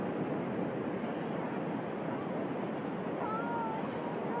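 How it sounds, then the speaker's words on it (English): Surf washing up onto Hermosa Beach in Costa Rica during a sea turtle release, a steady, loud rushing wash of water with wind buffeting the microphone throughout. "Here comes the wave."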